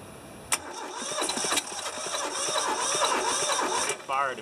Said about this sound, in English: It fired and popped out the intake.